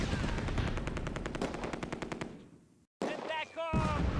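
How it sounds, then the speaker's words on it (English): Rapid bursts of machine-gun fire in the WWII strategy game Close Combat: A Bridge Too Far, loud and dense for over two seconds, then a brief gap before more shots ring out. "Heavy fire."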